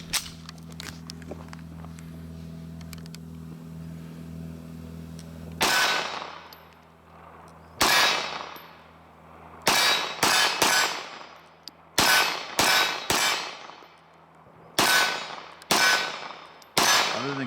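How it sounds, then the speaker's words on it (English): A SAR CM9 Gen 2 9mm pistol fires repeatedly outdoors, with sharp loud reports in an irregular string, some shots in quick pairs, after a quieter stretch of low background hum. "today we're going to be shooting the SAR CM9 Gen 2"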